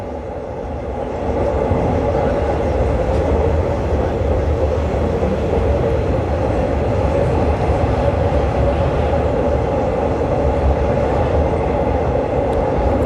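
Interior rumble of a moving train on the line from Don Mueang toward Krung Thep Aphiwat Central station, a loud steady roar with faint rail clatter that swells in over the first second and holds.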